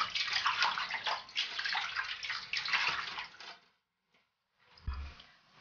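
Running tap water pours steadily over sausage casings being rinsed in a kitchen sink, a continuous close splashing that cuts off briefly near the end before resuming with a soft thump.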